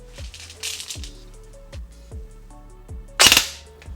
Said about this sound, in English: Shall we do the 3-round burst?